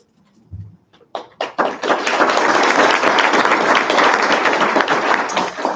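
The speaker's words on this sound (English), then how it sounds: "if we could just give our candidates another round of applause" An audience at a general assembly candidates' forum bursts into loud, sustained applause after a couple of stray claps, and the clapping holds strong and close until the end.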